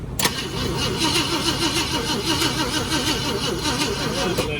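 A 69XL engine is cranked over, catching with a sharp pop then sputtering and churning in an uneven, weak-firing rhythm, loud and close throughout.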